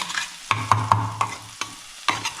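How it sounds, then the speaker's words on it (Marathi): Chopped onion being sautéed and stirred in a pan, a soft sizzle under several sharp spoon scrapes and knocks at irregular intervals, close by with no talk. "कांदा कांदा थोडा परतून घेऊ"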